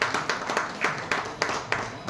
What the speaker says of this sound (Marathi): सगळ्यांनी जोरात टाळ्या वाजवून त्यांचं स्वागत करावं.